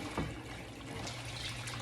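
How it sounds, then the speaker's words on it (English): Warm, not boiling, tap water pours steadily to soak tamale husks, a continuous trickling splash filling a container, moderately close with no talking. "And I've got some warm water, not boiling, just warm."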